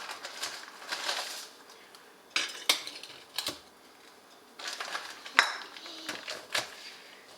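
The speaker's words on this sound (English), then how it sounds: "Again, I'm going to Smush it down. use my spoon" A spoon presses chocolate chip cookie mix down inside a glass jar, making a series of irregular clinks and taps against the glass with quiet pauses between them.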